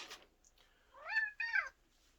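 A pet cat gives two clear, drawn-out meows in quick succession, fairly close and alone, with a short rustle just before them.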